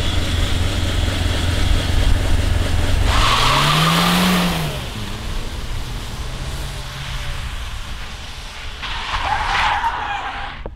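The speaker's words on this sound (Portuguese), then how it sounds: "Ele é um carro alugado, propriamente pro drift." Rented Chevrolet Cruze Turbo drifting with stability control switched off: loud, close tire squeal and skidding over a rising engine note, fading midway, then a second squeal burst near the end.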